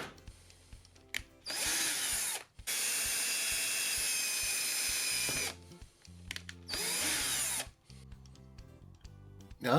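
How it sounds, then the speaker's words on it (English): A power drill whirs in several bursts into the plastic case of a 2004-2008 Ford F-150 gas lid housing, spinning up loudly for a few seconds then stopping, with clicks and handling noises between runs. "I'm going to begin by drilling out some access holes into the outer case"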